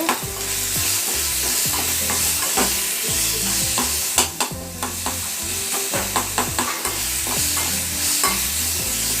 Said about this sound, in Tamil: தக்காளி நல்லா வதக்கிறது அதில் டேஸ்ட்டு